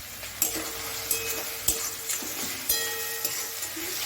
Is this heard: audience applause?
no